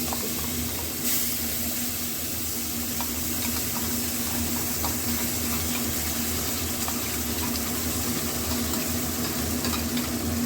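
Onion, garlic, ginger, green chilli and tomato paste frying in oil for a fish curry, a steady close sizzle with occasional crackles and stirring throughout.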